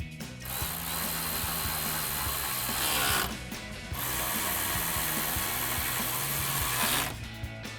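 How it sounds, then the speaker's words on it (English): Rapid ratcheting clicks from a 10mm socket tightening bolts on a 2016-2018 Chevrolet Silverado 1500 replacement grille, two long bursts of steady mechanical ratchet with a brief pause between, close and loud with no talk. "And tighten them down with our 10mm socket."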